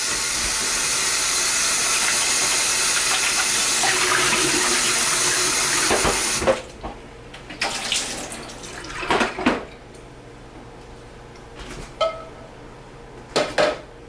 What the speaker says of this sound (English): I'll give these a rinse.